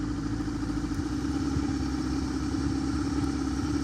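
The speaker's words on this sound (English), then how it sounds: "I just start throttling down a little bit now." A boat engine idles low and steady in a channel after being throttled back, a close, even mechanical hum with light clatter throughout and no talking.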